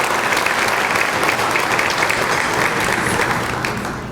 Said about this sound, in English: we'll just keep clapping for them